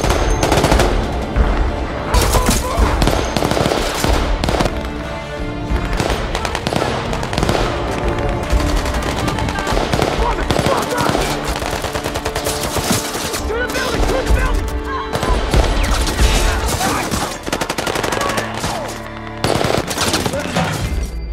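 Sustained, loud, dense machine gun fire from a Taliban attack in a war film battle at a dam, continuous rapid bursts layered with dramatic sound effects throughout.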